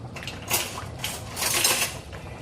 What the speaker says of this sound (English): now I'm gonna get a tasting spoon